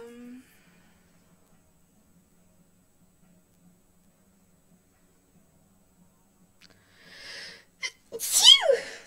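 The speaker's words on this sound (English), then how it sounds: "Sorry, I sneezed." A single sharp human sneeze bursts out near the end, preceded by a faint breath and a few small rustles after a long near-silent stretch, close and loud.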